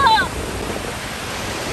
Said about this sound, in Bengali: এই যে সমুদ্র।